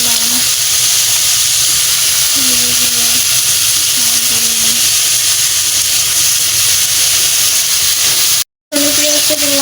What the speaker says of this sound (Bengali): তো পেঁয়াজ রসুন দিলাম, এটা ভালোভাবে একটু কষায় নিব।